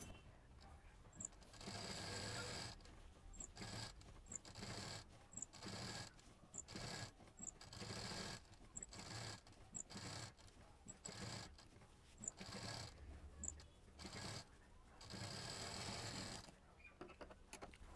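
A sewing machine stitches a fabric shoulder piece in repeated short runs, its whirring motor starting and stopping in bursts of one to two seconds separated by quiet pauses, close and alone.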